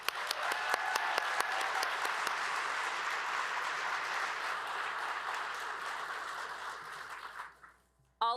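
Audience applause in a large plenary hall, a steady wash of many hands clapping with a few sharp nearby claps, fading out toward the end before a voice briefly begins.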